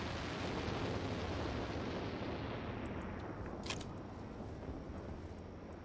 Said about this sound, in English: Oh, there goes a rocket.